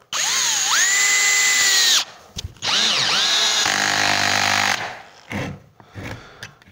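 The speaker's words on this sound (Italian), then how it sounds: "Sto usando la prima velocità, modalità avvitatore." A cordless 18V drill in screwdriver mode at first speed drives a screw without a pilot hole, the motor whining up in pitch in loud bursts, stopping abruptly, then giving short stuttering runs.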